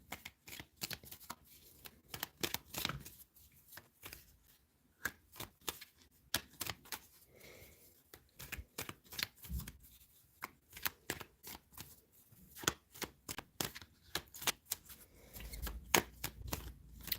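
Tarot cards shuffle in steady rapid riffles and taps, close and crisp, continuing without pause and with no talking.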